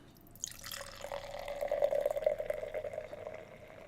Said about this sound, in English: we'll get into the theatrics of a 20-second pour